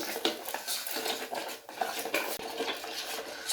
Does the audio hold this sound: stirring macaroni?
yes